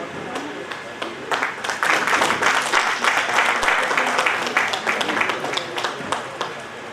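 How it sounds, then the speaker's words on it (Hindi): An audience at a district conclave applauds as people are welcomed onto the stage, with steady crowd clapping close by and lasting throughout, mixed with voices. "तो तालियों के साथ उनके स्वागत कीजिए।"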